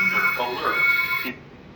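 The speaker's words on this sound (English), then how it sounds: "the buzzer was also beeping, and you was hearing that intruder alert alarm sound" An active buzzer in a reed-switch home security intruder alarm beeps in a steady high tone for over a second, then cuts off, with a person talking over it throughout.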